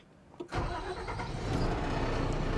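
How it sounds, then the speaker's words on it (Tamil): A 6035 XPT mega tipper truck engine cranks briefly, catches with a loud burst and settles into a heavy, rumbling idle close by. "அதுக்கு முதல்ல வண்டியை வந்து நம்ம ஸ்டார்ட் பண்ணிக்கலாம்"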